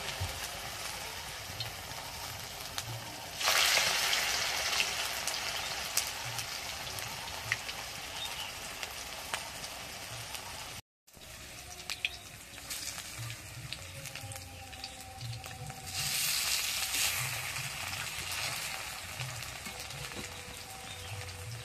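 Flour snacks made from a steamed wheat dough fry in plenty of hot rapeseed oil, giving a steady crackling sizzle that swells louder in two bursts as pieces go into the pan, with no voices.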